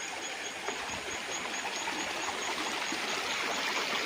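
River stream running through a three-hectare farm lot in Real, Quezon, a steady broadband rush of flowing water close by, continuous and even throughout with no voices.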